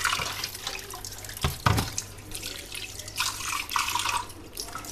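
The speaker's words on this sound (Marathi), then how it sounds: "तो आधी एका नळाखाली धुवून घेऊया." A new stone mortar and pestle is rinsed under a running kitchen tap, with close water splashing and gushing broken by a couple of sharp knocks and sloshing bursts.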